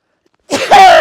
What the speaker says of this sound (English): That's how you do a sneeze